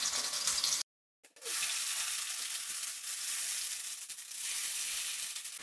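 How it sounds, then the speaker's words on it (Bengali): Onion paste frying in about a tablespoon of oil in a pan for a cabbage pakoda curry gives a steady, close sizzling hiss, briefly cut by a second of silence near the start before the crackle resumes. "পেঁয়াজ বাটাটাকে হালকা করে একটু ভেজে নিলাম"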